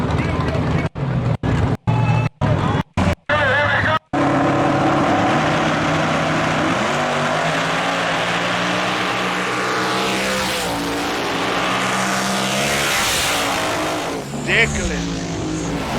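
Twin-turbo donk car drag racing a big-block donk: loud roaring engines rising in pitch as they accelerate past, with a series of sharp cuts early on and voices over the noise.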